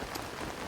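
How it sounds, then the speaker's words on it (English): Rainfall in the video game Zelda: Tears of the Kingdom, a soft, even wash of drops pattering faintly and continuously through a short moment. "I imagine the rain will be stopping soon"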